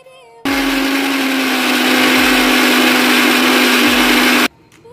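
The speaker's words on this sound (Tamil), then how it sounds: "இது எல்லாத்தையும் மிக்சியில் போய் அரைச்சிட்டு வரலாம்" A kitchen mixer grinder whirs loudly for about four seconds, grinding curry leaves with coconut and salt into thuvaiyal. The steady high motor whine starts and stops abruptly, close up, with no talking.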